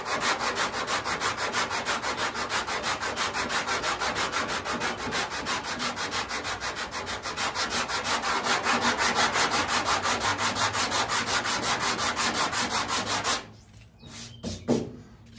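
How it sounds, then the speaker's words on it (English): Rhythmic sanding block strokes rubbing along a 1968 Firebird body panel, a fast, even back-and-forth rasp that continues steadily up close, then stops, followed by a couple of brief scuffs. "keep the sanding block parallel to that line and cutting right up to it and then stopping"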